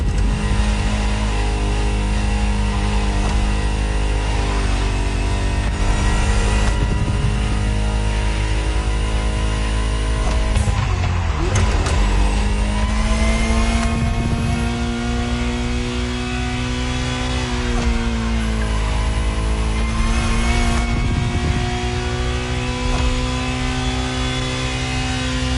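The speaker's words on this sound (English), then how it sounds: "Just listen to the car you're driving." A Ferrari supercar engine in the racing game The Crew Motorfest revs and pulls hard, loud and continuous throughout, its pitch climbing through gears with brief dips at shifts, heard close with no talk.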